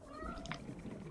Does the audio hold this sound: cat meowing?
yes